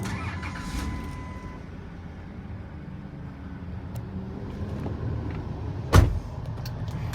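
A 2004-era Chrysler Town and Country minivan with 125,908 miles sits quiet under a low idle-like hum, then its engine cranks and catches in a short loud burst near the end, without speech.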